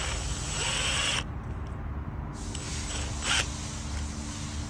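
Power tool driving a screw into a Powerhorse 96387 portable electric generator during battery repair, a close mechanical whir in two bursts separated by a brief pause, with a short higher squeal near the end.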